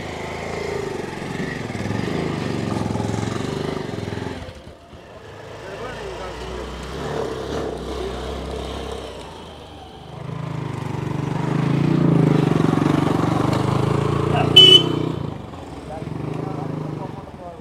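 A boat engine drones steadily during a river journey on the Godavari, a low mechanical hum that dips briefly and then returns stronger, with a person talking over it throughout.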